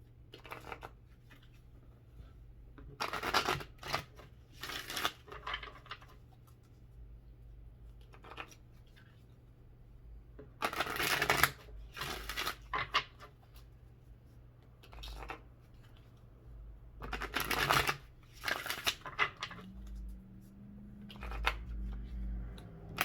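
Tarot cards are shuffled in several distinct riffling bursts separated by quiet pauses, close and crisp against a low steady background hum.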